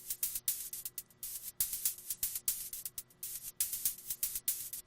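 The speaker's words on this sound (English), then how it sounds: "If I try the bright noise, it sounds like this." A hi-hat patch built on the bright noise oscillator in the Massive synth plays a rhythmic groove of short, crisp hissing noise bursts, dry and close with no voices.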